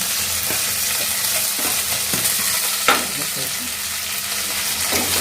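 Broad beans and onions fry in a pan, an even hiss of sizzling oil broken by scraping stirs and one sharper clack from the spatula.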